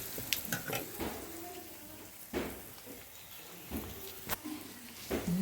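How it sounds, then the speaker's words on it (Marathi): Garlic tempering sizzles in a pan for a Konkan-style tender jackfruit vegetable dish, a soft steady frying hiss with a few sharper crackles and light clinks, fairly quiet throughout. "तर फोडणी घातल्या ना मम्मी"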